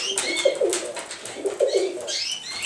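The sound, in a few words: pigeons cooing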